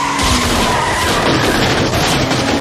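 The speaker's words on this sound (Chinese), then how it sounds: "马丁疯狂加速" A getaway car speeds down a highway with police in pursuit in a German comedy film, its tires skidding and squealing in one loud, continuous rush of engine and road noise.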